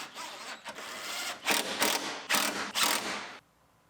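Bolts on a Lexus IS250 door window actuator are tightened with a ratcheting tool in several quick mechanical bursts, close and fairly loud, before stopping abruptly.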